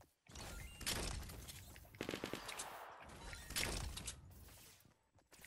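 Rapid gunfire in the video game Fortnite during a battle royale match, heard as several bursts of fast shots that come and go at moderate loudness, with no clear speech over them.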